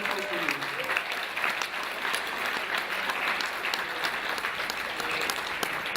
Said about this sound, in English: Clap your hands because you are surrounded by people equal to you.